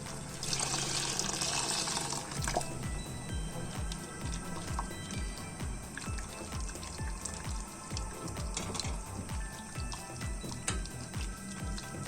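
Water pours steadily into a soup pot of sautéed tomatoes, a continuous close gushing and splashing that fills the whole stretch with a bubbling sizzle underneath.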